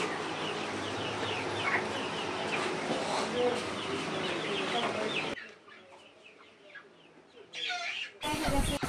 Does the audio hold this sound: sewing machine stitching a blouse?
no